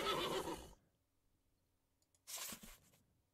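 A horse neighs twice in the video game Above Snakes, a loud whinny at the start and a second shorter call near the end, separated by near silence.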